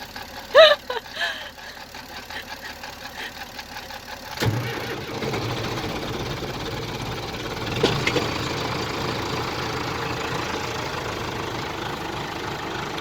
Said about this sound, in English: to jump start the tractor so we can keep on going